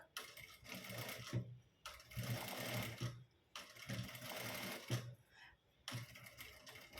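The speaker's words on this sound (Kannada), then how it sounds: "ಅದ್ರ ಮೇಲೆ ನೀಟಾಗಿ ನಾವು ನೋಡ್ಕೊಂಡು ಬಂದು ಸ್ಟಿಚ್ಚನ್ನ ಹಾಕ್ಕೊಳ್ಳೋಣ" Bursts of a sewing machine running fast as it stitches a blouse lining, close and clear, stopping and starting several times with short pauses between runs.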